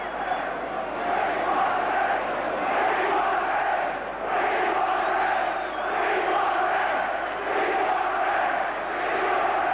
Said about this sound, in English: you can probably hear the crowd. We want a ref.